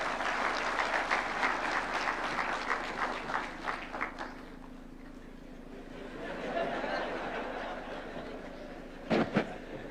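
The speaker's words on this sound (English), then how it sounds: "Another round of applause for the chair." Audience at the National Productivity and Performance Conference in Nairobi applauding the chair, a dense patter of many hands filling the hall for about four seconds, then fading into low room murmur and a brief knock.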